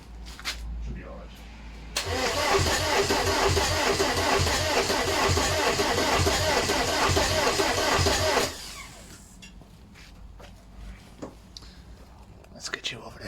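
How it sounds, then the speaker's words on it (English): A VW TDI diesel engine on a garage floor cranks in a rapid, rhythmic chugging for about six seconds, then stops, followed by faint clicks and handling sounds nearby. "let's try and start now. And if we're lucky, we should at least get a kick, if not a start"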